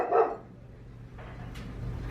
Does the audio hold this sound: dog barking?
yes